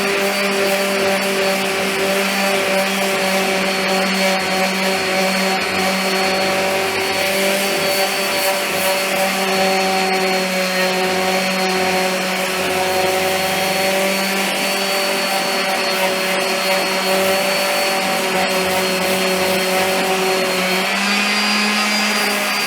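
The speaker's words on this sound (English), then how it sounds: "I can take a palm sander and sand them all so they're all identical." A palm sander runs steadily on wooden bench seat parts clamped down for shaping, a loud continuous motor whine with a steady hum that barely changes over about twenty seconds, with no talking.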